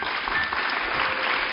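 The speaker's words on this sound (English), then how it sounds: "And now, another round of applause for Kelly and her volcano." Steady applause from a small audience claps on without a break, with faint voices mixed in and a dull, slightly muffled tone.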